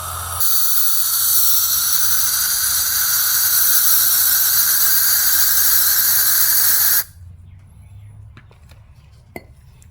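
Throttle body cleaner sprays from an aerosol can into the fuel injectors of a 2015 Toyota Corolla with the 1.8L 2ZR-FE engine, a loud, steady close-up hiss lasting about six seconds that cuts off abruptly, followed by a few faint clicks.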